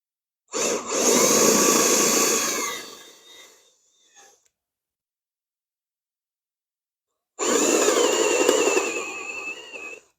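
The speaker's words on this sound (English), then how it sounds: "these are metal drill bits" Metal drill bit boring into wood, in two loud sustained bursts of a few seconds each, the first tapering off before a long silent gap, the second running steadily to the end, with no talk.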